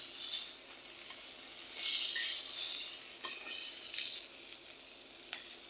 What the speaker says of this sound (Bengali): এখন আমি এই মাছের তেলেই আমি মাথা দুটো ভেজে নেব